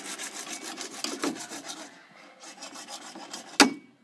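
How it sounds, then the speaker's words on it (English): Wood being hand-sawn outdoors, a close, raspy back-and-forth stroking that repeats steadily before pausing, then resumes with a sharp final crack near the end. "we are done sawing"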